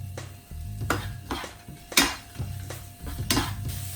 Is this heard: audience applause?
no